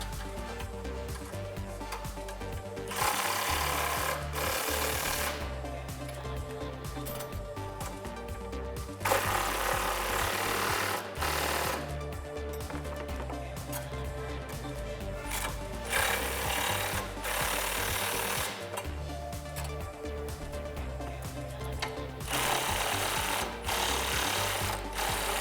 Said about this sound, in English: we are finally ready to tighten down the bolts on the bottom of our brush guard